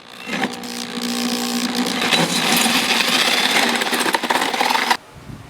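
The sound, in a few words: drilling a hole in plastic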